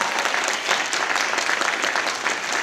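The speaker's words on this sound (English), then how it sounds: "Round of applause, please, for Karen, who made this happen." An audience at a Los Angeles comedy show applauds a woman named Karen, sustained, even clapping from a sizeable crowd, fairly close and full, with no talking over it.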